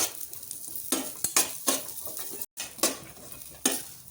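Karachi halwa mixture stirred and frying in a pan, a low sizzle broken by repeated scraping strokes of a utensil at an irregular rhythm, close and moderately loud, with a brief dropout midway.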